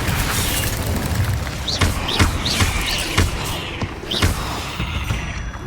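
An Incendio fire spell in Hogwarts Legacy sets off a loud, continuous roar of flame and combat, with repeated thumping impacts and whooshing bursts spaced about half a second apart.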